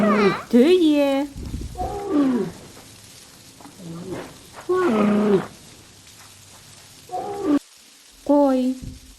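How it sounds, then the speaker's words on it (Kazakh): A camel groans and bellows in several loud, rising-and-falling calls spaced across the stretch, each a harmonically rich drawn-out moan with quieter gaps between. "Түйе."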